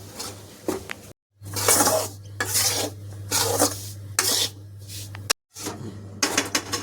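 Flour roasting in hot ghee in a pan, stirred with repeated scraping, rasping strokes in an irregular rhythm, close and fairly loud, with two brief pauses and a low steady hum underneath.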